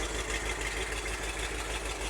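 A 1974 Ford F-350 dually engine idles with a steady, dense low rumble and broadband mechanical noise, close and continuous, with no voices.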